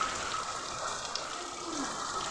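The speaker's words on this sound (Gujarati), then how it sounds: "અત્યારે વરસાદ ફૂલ વરસી રહ્યો છે." Heavy rain pours down steadily in Burud village, a dense, even wash of falling water that stays loud and unbroken throughout, with no voices heard.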